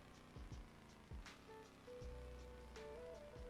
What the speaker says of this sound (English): It is starting to rain in the game again